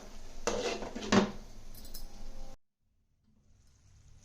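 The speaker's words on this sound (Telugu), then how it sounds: "ఇప్పుడు మూత పెట్టి ఉడికిద్దాం" A lid set onto a cooking pot of simmering brinjal and coconut paste curry, a loud metallic clatter and clink lasting about two seconds, then near silence with a faint hiss.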